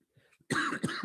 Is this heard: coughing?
yes